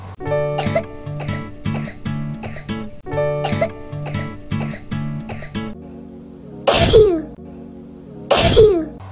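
Light plucky music plays, then stops, and two harsh coughs follow a couple of seconds apart, loud and close.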